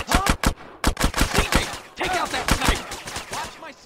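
Rapid automatic gunfire from the video game GTA: San Andreas, sharp bursts of shots in quick succession with a brief pause midway, loud and dense over about four seconds.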